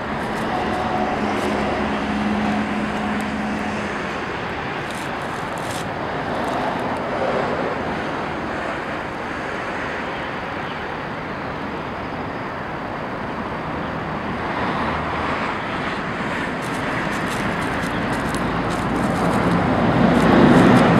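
A steady, roaring rush of falling water from Yosemite Falls fills the air, loud and continuous with some wind buffeting, swelling slightly near the end.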